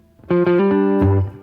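A distorted electric guitar plays a short riff of sixth intervals sliding down the neck, loud and close, with no one speaking.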